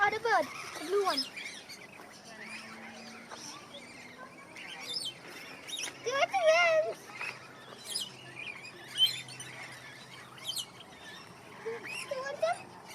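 Birds chirp and call in an aviary at a bird centre in Canberra, Australia, a steady scatter of high tweets and short calls over a light background, with children and adults talking throughout.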